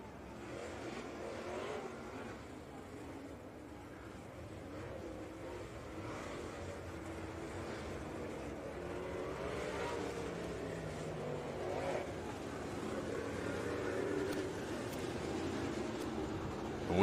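Dirt track Super Late Model race cars roar around an oval, a steady, moderately distant engine drone that swells and fades as the pack circles, with crowd and ambience beneath.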